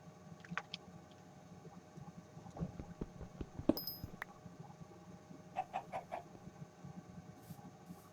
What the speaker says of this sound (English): I just realized that I heard a chicken and that this is not a normal thing.